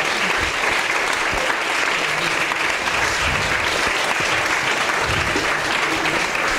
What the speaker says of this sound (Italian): Facciamo intanto un applauso di incoraggiamento a chi dovrà parlare.